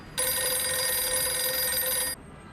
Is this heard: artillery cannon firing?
no